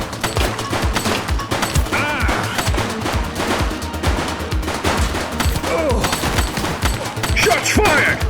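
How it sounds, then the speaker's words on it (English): Rapid gunfire bursts and bullet impacts in the police video game The Precinct, loud, dense and continuous over a busy game soundtrack, with occasional shouted voices. "Shots fired!"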